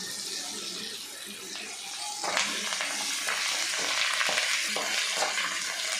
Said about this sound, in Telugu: బాగా చిట్టపెట్ట చిట్టపెట్ట అంటున్నాయి